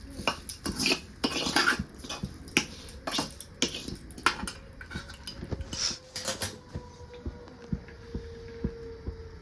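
Rice being mixed in a kadhai with metal utensils, sharp scraping and clinking strokes coming in quick, irregular bursts, close and fairly quiet, with no talking.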